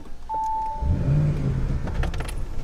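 Keys jingle, then an Audi RS7 engine cranks via start button and starts with a low gurgling rumble that settles into a steady idle.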